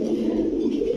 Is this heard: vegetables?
no